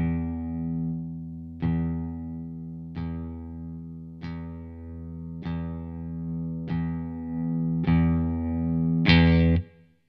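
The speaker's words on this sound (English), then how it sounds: "Here's what the volume control sounds like now" A Schecter Nick Johnston electric guitar rings out in seven evenly spaced strummed chords, each decaying as the volume control is rolled down, close and clean with no talking.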